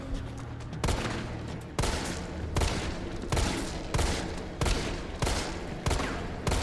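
Rapid gunfire in the Resident Evil 3 Remake video game, repeated bursts of sharp shots roughly every second, loud and close, with no one talking.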